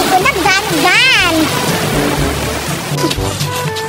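Water splashes and gurgles as it is poured into a container, with a rising pitch as it fills. Children talk and play loudly over the pouring.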